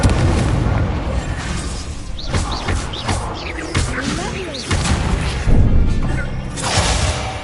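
An Incendio fire spell is cast in Hogwarts Legacy amid a busy fight, with repeated booms, crashes and whooshing bursts overlapping one another, and a voice speaking among them.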